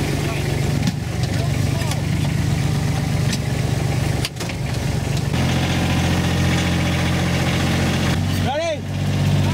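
A utility vehicle engine drones steadily and loudly while towing a motorbike to bump-start it, with a constant rumbling idle-like tone that shifts slightly in pitch partway through and some rattling and clunks over the top.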